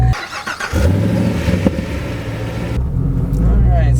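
A 2014 Chevrolet Camaro Z/28 engine is started with a basic key and catches with a loud roar, then settles into a steady, deep idle rumble close by while a person talks over it.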